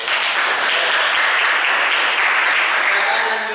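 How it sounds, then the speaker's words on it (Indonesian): Applause from a class audience after a student presentation in a university teacher-training session, a steady dense patter of many hands clapping at close range for several seconds, with faint voices mixed in. "tepuk tangan Bayu."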